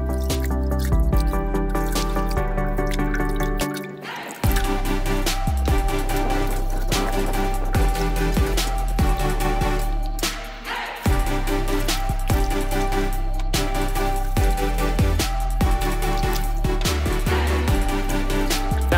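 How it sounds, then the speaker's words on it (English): Harvested beets with soil on their bases rinsed in water on a farm, giving steady dripping, sloshing and squishing splashes close up for the whole stretch, with two brief lulls and no talk. "the beets have got soil on the base. So we're gonna rinse them off in this"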